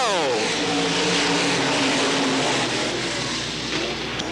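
Dirt track race cars roar past on the final lap with a loud, sustained engine drone, one car's pitch sweeping downward as it passes near, continuous broadband noise throughout.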